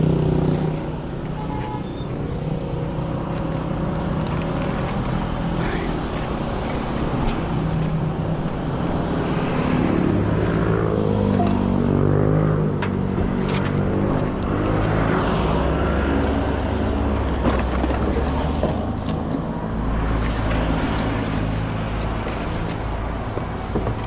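A four-wheel vehicle runs and drives with a steady engine rumble and road noise that holds loud and continuous throughout, with some shifting tones as it moves and a few faint clanks.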